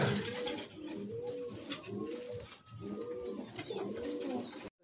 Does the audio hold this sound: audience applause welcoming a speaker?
no